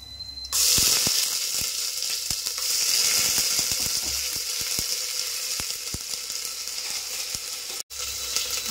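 Ginger garlic paste drops into hot oil for mutton paya and erupts into a loud, sustained sizzle, punctuated by sharp spoon taps and stirring knocks, with a brief cut near the end.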